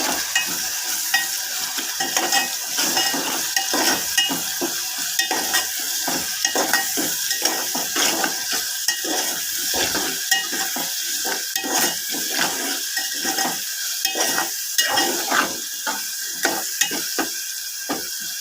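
Onion and tomato paste frying in a pan, a steady sizzle with repeated scraping and stirring strokes of a utensil against the metal, close and continuous.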